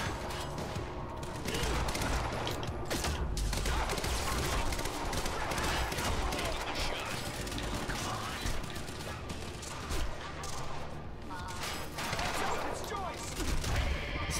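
Rapid gunfire in the video game Quantum Break, dense bursts of shots and mechanical clatter filling the whole stretch, loud and sustained with brief dips between volleys.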